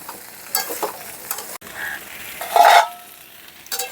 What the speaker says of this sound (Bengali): আদাটা দেওয়ার পরে কিছুক্ষণ নাড়াচাড়া করে নেব যাতে আদাটা একটু ভাজা ভাজা হয়ে যায়